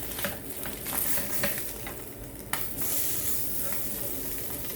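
Spam slices sizzle steadily in a frying pan for Hawaiian musubi, with a couple of sharp utensil clicks as the pieces are flipped, close and fairly quiet, no speech.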